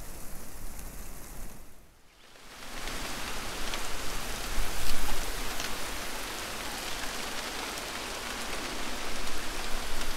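Steady, dense rainfall hissing on surfaces, close and continuous apart from a brief dip near the start, with no voices.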